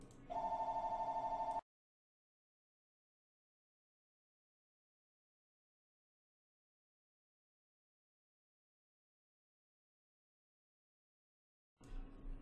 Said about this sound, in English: The phone ringing during stream sucks.